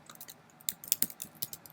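Quick, light keystrokes on a computer keyboard enter a git command in a terminal, an uneven close burst of clicky taps with no talk.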